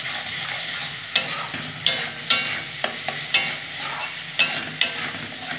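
Eggplant frying in mustard oil in a wok, with a spatula stirring and scraping against the pan at irregular strokes over a steady close sizzle.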